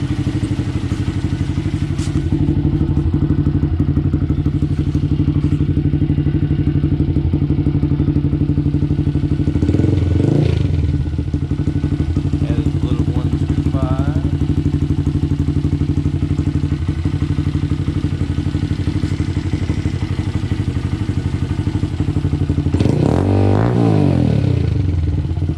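A 2022 Honda Grom with a DHM cam and CJR Racing tuning idles steadily while warming up, a loud, close, continuous low engine hum with a couple of brief revs and clattering thumps.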